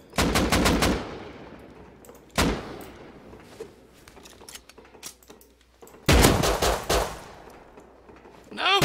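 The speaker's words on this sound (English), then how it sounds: "Out of bullets. There's so much recoil." Gunfire from the video game Rust rings out in sharp bursts: a rapid volley at the start, a single loud shot, scattered quieter pops, then another rapid burst and a final shot, close and loud without talking.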